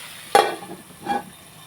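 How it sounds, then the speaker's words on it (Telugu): Mango fish curry is stirred in a pan with two distinct scraping strokes, a sharp one followed by a softer one, over a faint background sizzle. "ఒకసారి మనం కలుపుకుందాం"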